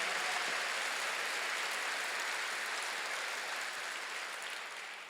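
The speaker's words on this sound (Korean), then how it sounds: "박수 좀 세게 치세요" A church congregation claps hard together, a dense, steady wash of applause filling the hall that slowly tapers near the end, with no voices over it.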